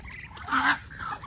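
A bitik, a native Philippine wild duck, gives a short nasal call at close range, one burst of about a second rising out of faint background noise.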